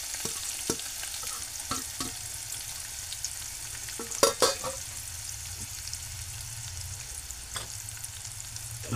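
Onion, tomato, crushed garlic and turmeric stirred in a pan for a breakfast dish, soft frying hiss underneath irregular spoon scrapes and a couple of sharper knocks against the pan, close and moderately quiet, no voices.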